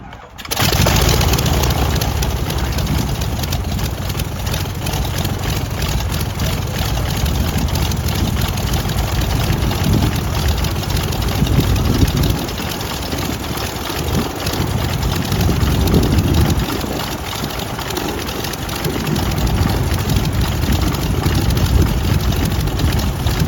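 The engine of a 1930 Fleet biplane barn find catches after a brief start and keeps running, a loud, continuous rough drone close by with slight surges and dips in pitch throughout.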